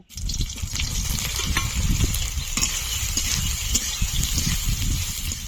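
Soybean chunks frying in oil in a hot kadai while being stirred, a dense continuous sizzle with low scraping and rustling from the spoon, close and fairly loud.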